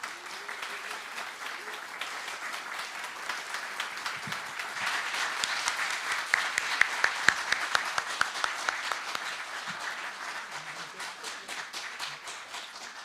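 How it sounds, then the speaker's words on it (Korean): A crowd applauds steadily at an award ceremony, with many hands clapping at once; the clapping swells in the middle and keeps going to the end. "여러분 큰 박수 부탁드립니다"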